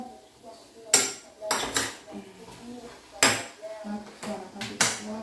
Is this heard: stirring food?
yes